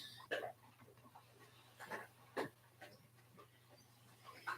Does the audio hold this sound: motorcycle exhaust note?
no